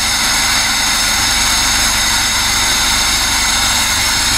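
A VAZ car engine idles steadily while its idle screw is adjusted, a loud, close, continuous mechanical hum and rumble with little change in pitch and no talk.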